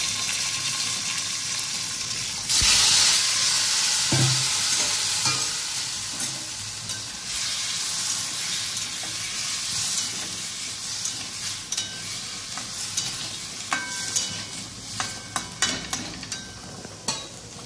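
Diced potatoes fry in hot oil with cumin seeds and chopped green chillies for a Bengali potato dish, giving a loud, steady close-up sizzle with occasional clinks and scrapes of stirring, no voices.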